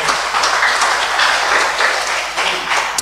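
A church congregation applauds during a sermon, dense, loud clapping that stays fairly even throughout with no talking over it.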